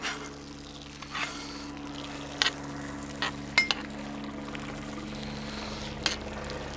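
Steak sizzling gently in a pan in an Ooni Koda pizza oven while being basted with rosemary and thyme, a soft continuous fry broken by a few sharp clinks and scrapes of the spoon against the pan.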